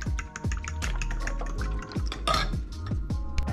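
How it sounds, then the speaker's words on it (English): Milk is stirred into a mixture with a utensil against a bowl, repeated scraping and clinking strokes in a quick irregular rhythm, close and distinct, with no talk. "I'm going to mix the milk in"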